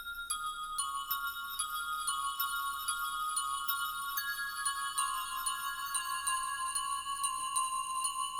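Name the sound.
Nexus bell synth melody played from MIDI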